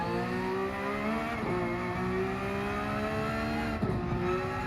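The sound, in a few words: Porsche 992 GT3 R downshifts in Gran Turismo 7 video game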